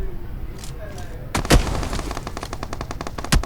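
Gunfire in PUBG Mobile: after a quiet stretch with faint background sounds, a loud shot cracks out, followed by a rapid burst of machine-gun fire and another sharp shot near the end.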